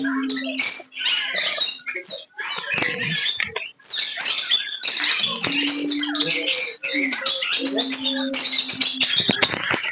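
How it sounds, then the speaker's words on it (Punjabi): Close, busy chorus of Java sparrows chirping and tweeting in quick overlapping calls, with brief whistled notes threaded through. "ਇਹ ਹੈ ਜਾਵਾ ਚਿੜੀ ਇਹਨੂੰ ਜਾਵਾ ਚਿੜੀ ਬੋਲਿਆ ਜਾਂਦਾ"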